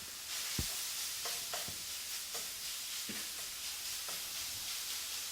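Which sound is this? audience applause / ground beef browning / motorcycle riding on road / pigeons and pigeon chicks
ground beef browning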